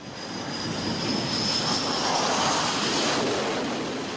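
An F-18 jet, around 25 tonnes and coming in at about 225 km/h, approaches to land on an aircraft carrier deck. A broad, steady jet roar swells and holds loud throughout, with a faint high whine riding on top.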